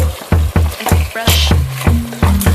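Chicken with tomato gravy cooks in a pan while a spoon scrapes and knocks against it in a steady rhythm, loud and close, with a soft sizzle underneath the repeated strokes.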